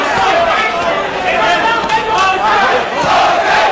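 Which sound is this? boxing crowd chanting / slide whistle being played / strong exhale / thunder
boxing crowd chanting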